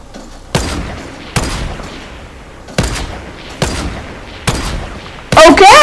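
A semi-auto gun in Fortnite fires five evenly spaced sharp shots, each with a booming tail, followed by a louder burst of impact and effects at the end.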